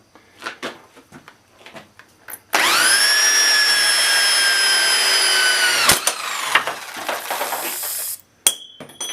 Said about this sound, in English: You're going to use a corded drill instead of a cordless